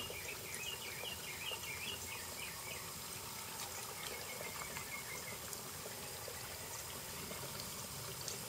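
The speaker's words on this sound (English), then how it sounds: "just give it a couple seconds of water" Water from a garden hose runs into a funnel with a steady rushing, trickling wash that lasts throughout, moderately close, with faint outdoor birds or insects chirping in the background and no talk.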